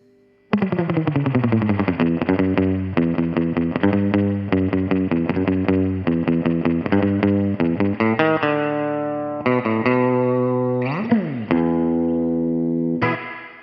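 An electric guitar, a Stratocaster, plays a run of plucked notes and chords through an outboard spring reverb, each one blooming into a splashy, metallic spring reverb tail, with no talking.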